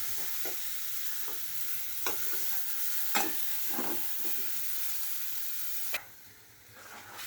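Washed taro stolons (kochur chora) hit a pan of fried spice paste, giving a steady sizzle with a few soft stirring scrapes; the frying stops abruptly near the end, leaving a brief quiet before a final knock.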